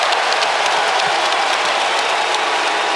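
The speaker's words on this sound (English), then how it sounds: "The crowd are loving this now." Volleyball crowd applauding a block in a men's international final between France and Russia, a dense, steady wash of clapping from a large arena audience filling the whole moment without a break.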